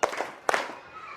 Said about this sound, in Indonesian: teman-teman silahkan tepuk tangan 2 kali